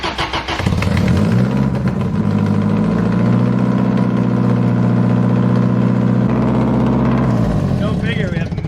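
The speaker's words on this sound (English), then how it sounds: "Go figure, we have massive exhaust" A Toyota AE86 engine with a leaky side-exit exhaust fires up and settles into a loud, rough idle, its exhaust rumbling and blatting, then rising slightly near the end.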